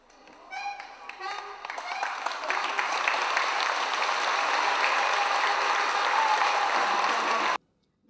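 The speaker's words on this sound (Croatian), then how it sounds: "Roditelji, bake, deke i njihovi drugari nagradili su taj trud gromoglasnim aplauzom." Parents, grandparents and children in a school gym break into thunderous applause, starting with a few scattered claps that swell within seconds into dense, sustained clapping from a large crowd, close and loud, before cutting off abruptly.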